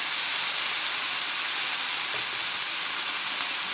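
Turmeric and spices hitting hot oil for Indonesian opor ayam, a loud, dense, steady hiss of sizzling that fills the whole stretch close up with no talk over it.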